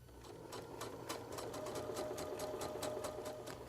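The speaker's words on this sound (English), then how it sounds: "Now we're going to sew our side seams." A sewing machine stitching the side seams of a skirt with a permanent stitch, running steadily and close with a fast, even rhythmic needle clatter over a low motor hum.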